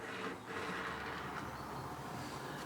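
Model PCA tanker wagon rolling along a layout track, a faint continuous rumble with light clicks from the rails, close and quiet.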